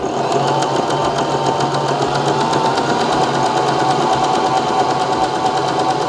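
A Baby Lock Zest home sewing machine runs a stretch stitch through a dual layer of fabric, giving a steady, close, continuous mechanical whir with a fast needle rhythm and no pauses.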